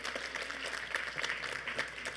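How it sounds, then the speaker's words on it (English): Audience applause at a panel event, a steady broadband patter of many hands clapping throughout the short stretch, moderately loud and fairly even with no voices on top. "So, round of applause for yourselves."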